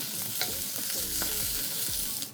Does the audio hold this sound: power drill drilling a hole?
no